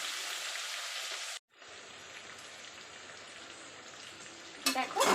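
Chopped onions for a mutton curry fry in hot oil with a steady, dense sizzle that cuts out abruptly, then resumes more quietly, ending with a short burst of louder stirring or spattering.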